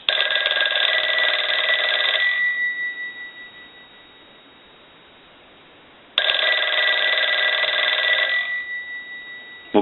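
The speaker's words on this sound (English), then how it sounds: "we'll go ahead and ring the unit with the analyzer" A Northern Galion rotary desk telephone rings in two long bursts of its bell, separated by a few seconds of silence, loud and close with no voices.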